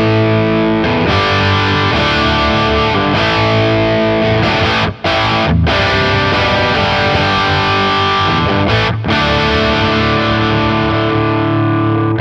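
A Victory Kraken guitar amplifier on its gain 1 channel with the preamp off delivers loud, thick distorted chords and palm-muted chugs, played in bursts with a couple of short breaks.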